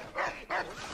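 A dog in Assassin's Creed 3 gives two loud close barks in quick succession, with game ambience underneath.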